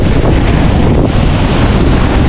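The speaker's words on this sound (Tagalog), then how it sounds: "Ang lakas na ng hangin" Strong wind buffets the microphone in a steady, loud roar during a flood, with heavy low rumbling and no voices.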